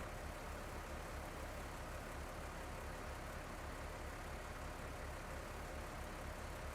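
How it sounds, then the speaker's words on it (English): A Case tractor idling in Farming Simulator 19, a steady low engine drone with a faint rhythmic pulse and constant hiss, unchanging throughout and heard alone. "I'll just leave the case idling there"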